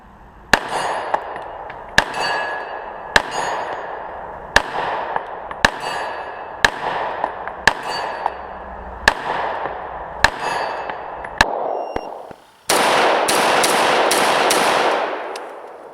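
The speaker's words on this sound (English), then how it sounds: "let's get out and start shooting this thing" An FN FNX-45 Tactical pistol fires at an outdoor shooting range: about ten sharp, evenly spaced reports, each with a ringing decay, followed by a few seconds of dense, loud broadband noise.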